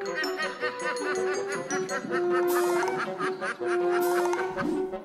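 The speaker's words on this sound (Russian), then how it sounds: "Как флиртуют утки." Ducks call in a steady run of nasal honks and quacks, loud and close, with several birds overlapping throughout and no talk.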